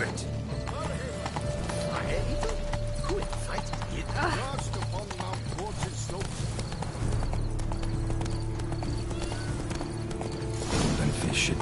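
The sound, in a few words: horse hooves galloping in the video game Witcher 3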